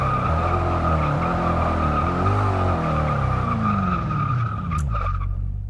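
A car in a Forza Motorsport 6 racing game brakes hard from high speed, its tyres skidding and squealing loudly with a falling engine drone until it comes to a stop.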